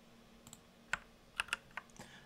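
Keystrokes on a computer keyboard while entering database credentials for a Spring Boot app, heard as a handful of sparse, separate clicks in a quiet room with no speech.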